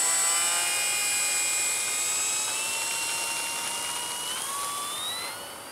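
A Hobby King Spitfire MK5 RC model plane flies on its maiden flight, its small engine a high, steady whine that shifts pitch as it passes, loud then fading slightly toward the end.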